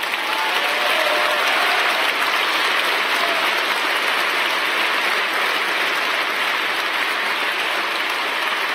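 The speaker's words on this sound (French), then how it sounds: "Vous m'applaudissez" Dense, loud audience applause at a political speech, a continuous roar of many hands clapping that holds steady for nearly nine seconds without a break.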